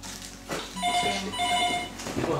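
A hotel room telephone at a hot spring inn in Yorōushi Onsen, Hokkaido, rings in a repeating electronic trill of short bursts, fairly close and clear over a faint room background.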